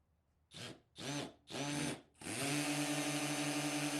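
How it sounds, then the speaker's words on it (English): A cordless Harbor Freight Hercules drill spins up a drill bit in three short bursts, then runs steadily at full speed with a high, even whine, close by and loud. "putting a little torque on the drill bits"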